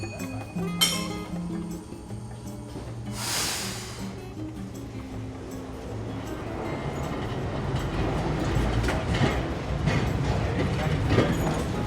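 A light blue and grey drop-centre electric tram rolls along its rails, a low rumble and rattling clatter building steadily louder, with a brief ding and a whoosh early on.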